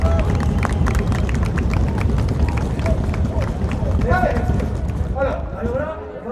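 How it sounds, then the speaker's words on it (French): An outdoor crowd at a street protest in Brest claps steadily in a fast, dense patter, with voices and chatter mixed in throughout. "on peut appeler le GC s'il vous plaît pour l'applaudir"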